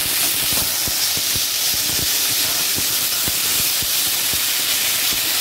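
Coriander paste sautés in a pan with a loud, steady hiss of steam and sizzle, punctuated by regular soft taps from a stirring spoon close by.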